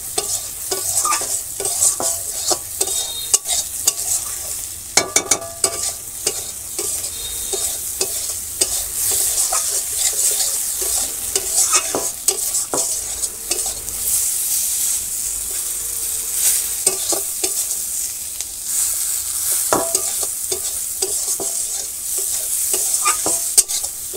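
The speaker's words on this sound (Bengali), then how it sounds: "এটা ভেজে নেবো, এরকম হলে একে বলে নিম বেগুন" Neem leaves and eggplant frying in a village kitchen pan, a steady bright sizzle running throughout with frequent scraping and clinking as the mixture is stirred, close and fairly loud with no voices.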